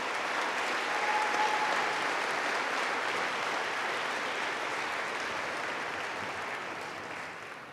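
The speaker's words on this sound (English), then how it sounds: "How about one more round of applause for all those people who made it possible for the graduates to be" Sustained applause from a large audience at an undergraduate commencement ceremony, a dense, steady wash of clapping that holds evenly for several seconds before beginning to taper slightly.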